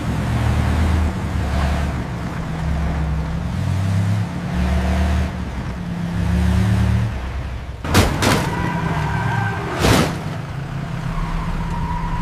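A car pulls away with its engine revving in low, surging bursts that rise and fall, and two sharp loud bangs cut through around the two-thirds mark.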